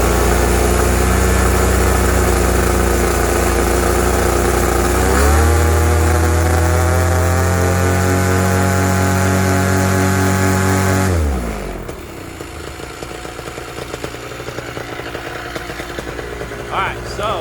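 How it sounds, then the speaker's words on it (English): Moster 185 motor revving unevenly while its carburetor high jet is tuned, a loud rough engine drone that surges and jumps in pitch for about eleven seconds before dropping off sharply to a lower, quieter idle. "Listen to the way the motor's revving up."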